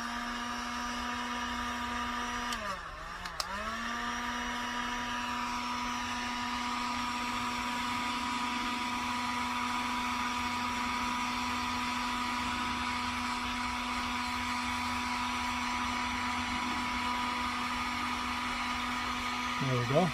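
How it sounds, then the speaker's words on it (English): A heat gun blows hot air onto a heat-shrink wiring connection for a tractor electrical upgrade, giving a steady, loud, close whine and rush of air that dips briefly early on and then runs continuously. "Take the heat gun, on the heat."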